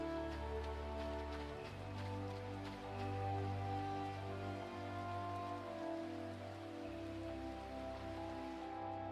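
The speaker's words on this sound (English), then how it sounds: "This is the second time I've been rained upon." Steady rain patters continuously over a low, droning musical backdrop in the video game Final Fantasy XIV, in Kugane, moderately loud and unbroken throughout.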